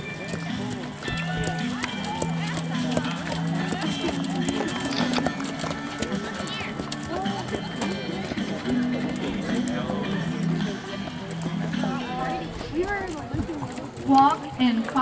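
Plantation horse doing a running walk in a show-ring class, its hoofbeats a steady rapid clip-clop under a continuous announcer's voice and background crowd noise.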